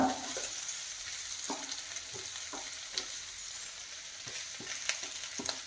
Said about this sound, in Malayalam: മുട്ട ഇടുകയാണ്